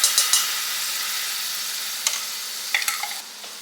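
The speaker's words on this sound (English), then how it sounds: "You want to take that and just stir that around in your butter." Minced garlic stirred in melted butter in a pan for homemade Alfredo sauce, a steady soft sizzle with a few light scraping taps of the utensil, close and without talk.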